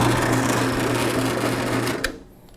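A pea shelling machine runs with a loud, steady mechanical whir and hum, then cuts off abruptly with a clunk near the end.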